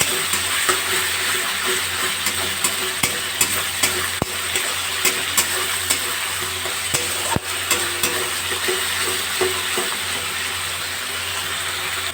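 Spices frying and being stirred in a pan over a raised gas flame, a steady close sizzle with occasional scraping clicks from the stirring, heard alone for about twelve seconds.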